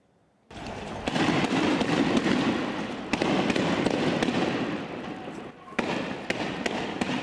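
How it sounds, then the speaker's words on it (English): Stun grenades go off during clashes between stone-throwing Palestinian protesters and Israeli troops in Bethlehem in the West Bank. The noise is loud and continuous, with sharp bangs and cracks standing out against a steady wash of crowd clamor. "They're responding in turn with stun grenades."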